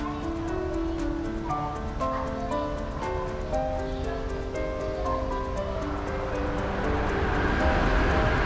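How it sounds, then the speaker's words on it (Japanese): A loud, rushing roar of a Skyliner express train passing through Narita Yukawa Station builds steadily, with rumbling low noise and whining tones. "もしやこの音はスカイライナーの通過では。"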